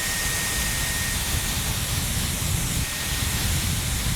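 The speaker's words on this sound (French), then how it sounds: "je vais mettre de la laque" A continuous loud spray hiss of hairspray being applied to hair, steady and close, holding without a break for the whole stretch.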